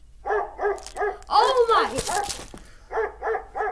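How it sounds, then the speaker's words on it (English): A dog barking in a short comedic meme: a quick run of three sharp barks, a burst of excited voices and yelps in the middle, then three more barks, close and loud. "Run! Run for your lives! The dog is coming!"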